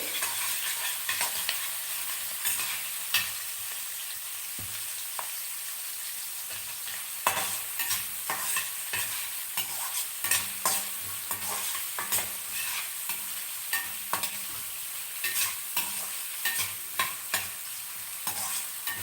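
Onions fry in a pan for a capsicum and potato dish, a constant bright sizzle with frequent clicking stirs and scrapes of a spoon throughout, close and steady, no talking.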